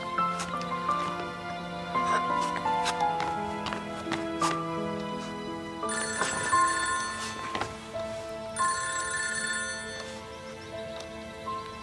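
A telephone rings indoors in a home in a TV drama, its electronic ringtone melody repeating steadily and clearly for several cycles, with no talking over it.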